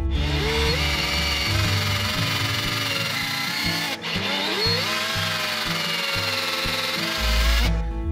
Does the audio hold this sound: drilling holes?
yes